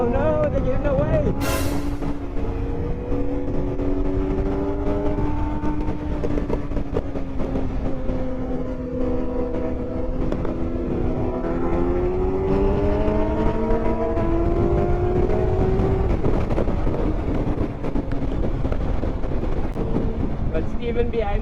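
Superbike engines of 600cc and 1000cc rev and whine in rising, overlapping tones, heard from a Honda CBR600F following them on a sunset ride, beneath a heavy, constant rush of wind.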